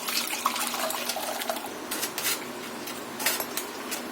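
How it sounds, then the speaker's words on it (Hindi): Meat stock (yakhni) for achari pulao being strained through a sieve into a pot: liquid pours and splashes with metal utensils clinking and scraping against the vessel, close and intermittent. "ये यखनी को हम छान लेंगे।"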